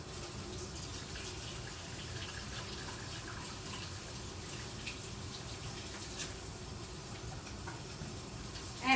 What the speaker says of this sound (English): And I gotta wash it to get that meat off.